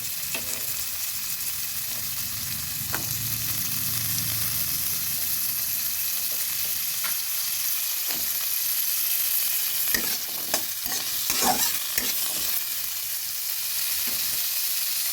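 Chopped carrots stir-frying in a pan for oats khichuri, a steady close sizzle with scattered scraping stirs of a utensil, a few louder clatters late on, no voices.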